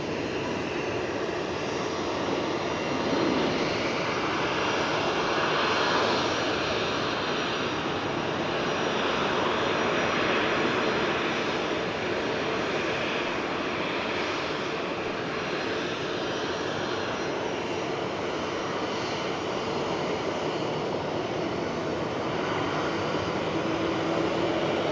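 A Cathay Pacific airliner at Geneva Airport produces a broad, steady engine roar that holds loud and constant throughout, with no voices over it.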